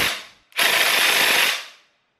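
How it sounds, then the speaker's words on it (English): DeWalt impact wrench with a 17 mm socket on the sprocket nuts of a Yamaha R6 motorcycle, one loud, rapid hammering burst lasting about a second after a short whir, close up. "I'm putting on my impact because I want to spend the least amount of time as I can doing this."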